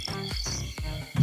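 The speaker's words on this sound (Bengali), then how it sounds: "শুধু ঝিঝি পোকার ডাক শোনা যাচ্ছে চারিদিকে।" Crickets chirping on a moonless night, in three or four pulsing bursts that come close and fairly loud, with no voices present.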